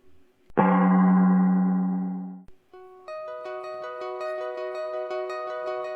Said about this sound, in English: Track 2 is an arpeggio,